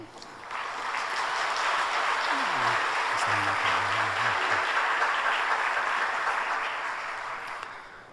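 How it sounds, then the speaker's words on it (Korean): A church congregation at a Sunday worship service applauds in welcome, a broad, steady wash of clapping that swells in, holds evenly for several seconds and tapers off, with a faint low tone sliding underneath. "자리에서 일어나실 때 따뜻한 박수로 환영해 주시기 바랍니다"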